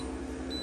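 An electric pressure cooker, set to cook on high pressure, gives a single short, quiet electronic beep that starts halfway through over a low background hum.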